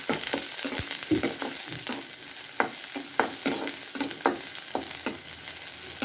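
Finely chopped shallots sizzle in hot oil in a pan, with a steady frying hiss broken by repeated scraping stirs from a spatula.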